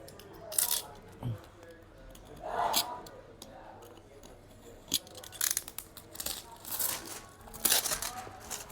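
Unboxing a DJI Air 3S Fly More Combo drone box: cardboard and plastic wrap crinkle and rustle nearby, with scattered clicks, taps and tearing sounds in a quiet room.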